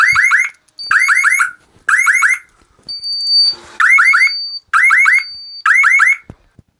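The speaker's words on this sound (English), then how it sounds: "this smoke detector never went off. Suddenly, this is what we get." A loud, shrill electronic smoke detector alarm, long inactive, sounds in repeated bursts of rapid chirping beeps, with steady piercing tones between some bursts.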